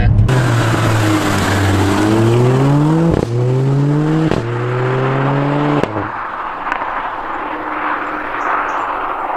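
Mercedes A45 AMG engine revving through gears, pitch climbing steadily then dropping at each shift, with the exhaust blipping hard on the down changes, loud and close from inside the car.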